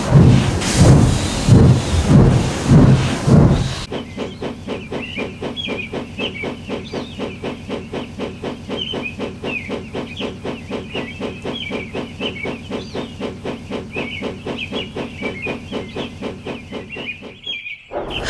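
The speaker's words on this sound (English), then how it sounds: "The fireman raised steam as quickly as he could, and Henry, blushing with embarrassment, set off for the big station." Steam locomotive hissing steadily as its fire is raised, a continuous breathy hiss with faint chirping overtones that runs alone for over ten seconds after a louder, busier opening.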